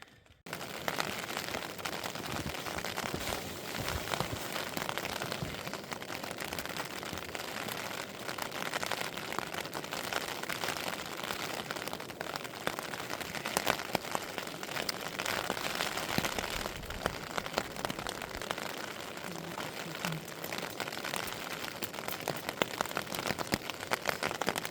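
Rain falls outside a tent during a wild camp on Loughrigg Fell in the Lake District, a dense, continuous patter drumming on the fabric, loud and close for the whole stretch.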